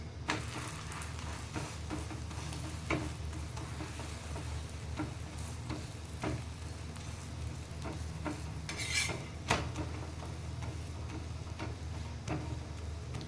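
Aloo paratha roasting on a hot griddle gives a steady low sizzle, with soft scrapes and clinks of a spatula turning it at irregular moments and a brighter hiss near the middle.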